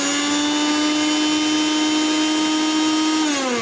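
An empty Kajafa mixer grinder motor running at full speed, a loud continuous high whine that dips slightly in pitch near the end, with no talking.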